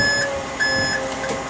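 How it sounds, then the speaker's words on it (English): A steady electronic outrigger warning beep repeats in short, evenly spaced pulses over a constant machine hum at high idle, fairly loud and close. "you're going to hear an alarm come on."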